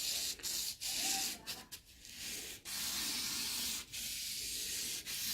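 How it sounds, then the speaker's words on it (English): Sandpaper is rubbed very gently along the edge of a run in automotive clear coat, a close, steady hiss in long continuous passes broken by brief pauses as the paper lifts. "you can very gently just let the sandpaper take the fold of the edge"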